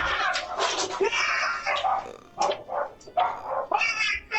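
A dog barks at a bear outside a house, repeated loud, sharp barks and yips in quick irregular bursts, close by and dominating the scene with little else audible.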